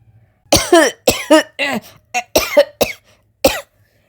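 A series of sharp, harsh coughs in quick bursts, close up, with short pauses between fits, ending in a final single cough.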